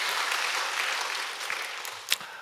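A church congregation claps together during a Sunday service, a dense, even wash of applause that holds steady for a couple of seconds and then thins slightly, with no speech.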